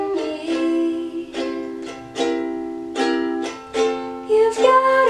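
Ukulele strummed through the chords of a song, from the Toy Story tutorial: six or so bright, close strums with ringing chords between them, played alone without voice.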